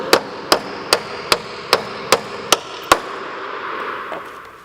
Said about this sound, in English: taking the hammer, tap the bolt to remove it from the timber altogether.